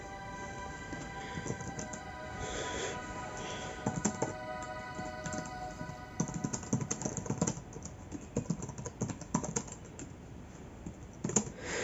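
Typing on the big, clicky keys of a 2009 Asus K50IJ budget laptop: a close, irregular run of light key taps that bunches into quick bursts and brief pauses.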